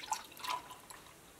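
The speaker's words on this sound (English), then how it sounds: "what I'm going to do is pour it" Hot liquid, cooked and left to cool briefly, poured into a jar in an off-grid cabin kitchen, giving a short, faint dribble and a few light drips, close by and without talk.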